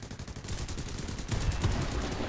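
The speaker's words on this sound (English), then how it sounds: "I decided to fire the cannons there" Spitfire VB cannons firing in War Thunder, a rapid, steady burst of gunfire lasting about two seconds with rhythmic repeated shots, growing heavier and louder toward the end.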